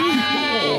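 A cartoon sheep in Fireman Sam gives one loud, close bleat with a wavering, drawn-out tone. It fills the short moment alone.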